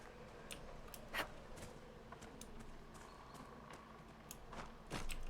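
Horse hooves clop at a walking pace in the Dragon Age Inquisition video game, soft and steady under a low game ambience, with a few louder accents near the start and end and no voices.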